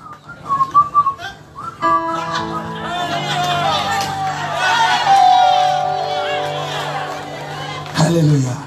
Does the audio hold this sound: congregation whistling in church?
yes